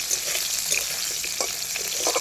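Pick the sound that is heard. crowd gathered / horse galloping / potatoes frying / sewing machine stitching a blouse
potatoes frying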